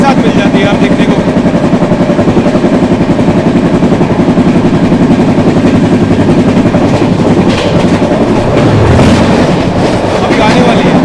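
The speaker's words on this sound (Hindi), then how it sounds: "आ रही है ट्रेन नंबर 12414 जम्मू तवी अजमेर पूजा सुपरफास्ट एक्सप्रेस" Superfast express train, the Jammu Tawi–Ajmer Pooja Superfast Express, pulling into a station with a steady loud rumble and rail clatter throughout, a deeper surge near the end, and some voices mixed in.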